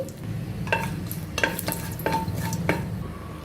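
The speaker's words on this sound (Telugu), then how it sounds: "ఇప్పుడు ఆయిల్ వేడెక్కిందండి కొద్దిగా దాల్చిన చెక్క వేయాలి రెండు ఇలాచీలు మూడు లవంగాలు కొద్దిగా బిర్యానీ ఆకు వేసుకోవాలి" Whole spices, cinnamon, cardamom, cloves and bay leaf, sizzle in hot oil for tomato rice, a steady close crackle with several sharp metallic clinks of a spoon against the pan.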